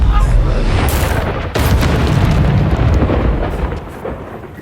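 Spell explosions boom through Hogwarts Legacy combat on PC, loud layered blasts and rumbling impacts in quick succession, with a voice shouting over them.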